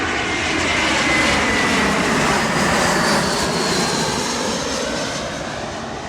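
American Airlines Airbus A321-200 jet engines at Vancouver's YVR airport, a loud, steady broadband roar that holds for several seconds and eases slightly toward the end, with no voices.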